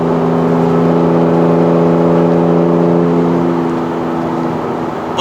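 A 2015 Porsche 911 GT3 RS flat-six engine under light throttle through a corner, a loud, steady harmonic drone with rising pitch, easing slightly toward the end. No one speaks.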